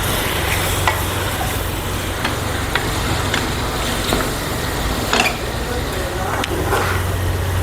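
Washed prawns and masala sizzle and crackle in a hot pan while being stirred for a potato pepper fry, a steady close frying hiss with occasional scraping clicks of the spoon throughout.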